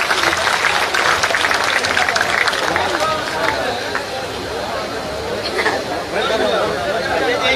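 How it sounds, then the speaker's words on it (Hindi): Loud, dense applause and crowd chatter at a BJP political rally in Rewa's Semariya constituency, greeting a member of parliament; steady clapping noise fills the whole stretch with crowd voices mixed in. "जोरदार तालियां बजा के स्वागत करना अभिनंदन करें"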